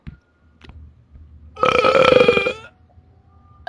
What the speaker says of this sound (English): 5 minute burp off contest